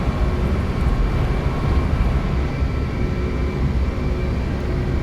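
Jet engines of an L1011 TriStar airliner in a flight simulator roar at takeoff thrust, a steady dense broadband rumble with faint tonal whine, continuous and loud without pause.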